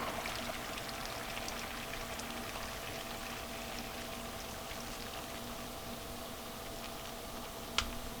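Beer, 12 ounces, poured into a pot of mountain chili, a steady bubbling, streaming pour held at an even, moderate level throughout, with a single sharp clink near the end.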